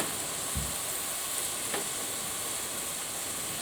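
Rice stir-frying in a pan, with a constant close sizzle and a couple of soft utensil scrapes as the rice is moved around.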